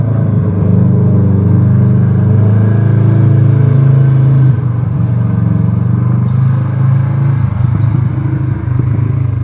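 A loud all-terrain vehicle engine rumbles close by in South Dakota, idling roughly and then revving, with a clattering mechanical growl that dips briefly partway through.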